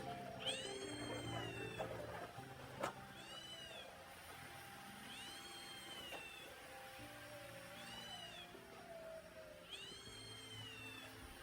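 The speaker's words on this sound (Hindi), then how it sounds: "टीवी पे जो है कोई कैट की आवाज़ लगाई थी" Cat meows played from a television, a series of about five drawn-out meows at regular intervals, moderately close, over a steady low background hum.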